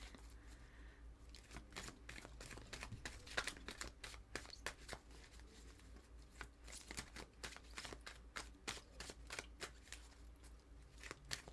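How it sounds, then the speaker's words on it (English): A tarot deck is shuffled close up, giving repeated quick riffling bursts in an irregular rhythm that are soft but distinct against a quiet low hum. "One more shuffle and then I'll take the top card."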